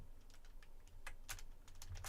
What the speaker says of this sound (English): But I want to not type that with the Japanese keyboard.